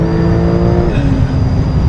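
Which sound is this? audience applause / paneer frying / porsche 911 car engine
porsche 911 car engine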